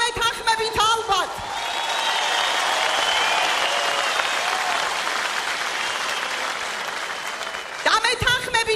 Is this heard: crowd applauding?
yes